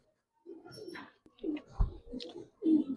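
Silver Giribaz pigeons of an old breed coo close by in soft, low burbling phrases, three or four separate calls with brief pauses between them.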